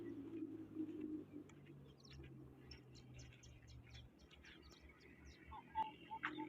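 Pigeons kept by a fancier in hot weather make soft, intermittent low coos and scattered short chirps over a steady low hum, mostly faint, with a slightly louder burst near the end.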